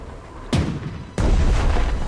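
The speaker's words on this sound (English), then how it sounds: "Attack it with the depth charge again." Depth charges detonate in the Strategic Mind strategy game, two heavy booming blasts about half a second apart, each a sudden loud burst with a rumbling tail, the second hitting harder and sustaining.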